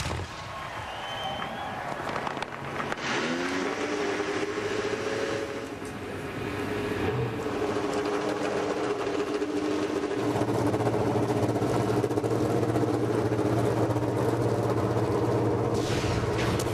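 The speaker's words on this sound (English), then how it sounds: "The engines have come to life" Field of IndyCar race car engines fires up at the 2006 Kansas Speedway Indy 300, a rising roar of many engines settling into a loud, sustained idle drone with crowd noise mixed in.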